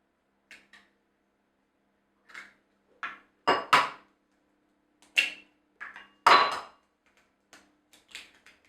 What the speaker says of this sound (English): We're just going to crack these in and whisk them